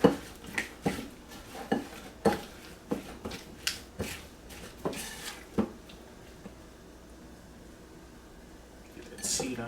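Strawberry filling being stirred with cornstarch in a bowl for oatmeal bars, giving a steady run of sharp utensil clinks and scrapes against the dish, close and moderately loud, then fading to quiet near the end with a final clatter.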